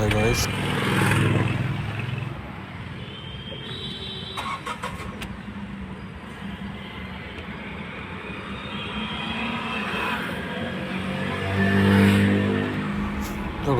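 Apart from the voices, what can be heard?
Tata Nexon car engine started with self-starter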